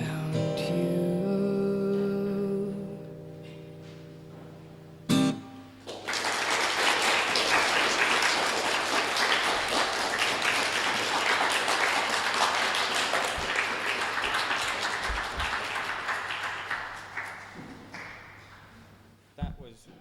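Sustained audience applause at a live Transgender Day of Remembrance event, starting as sung music with sustained notes ends, a dense steady roar of clapping and cheers holding for about fifteen seconds before fading.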